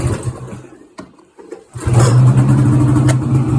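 Engine of a 2008 Ski-Doo Summit snowmobile cold-starting after a fuel pump reinstall: a couple of cranking bursts, then the motor catches and settles into a loud, steady close running note.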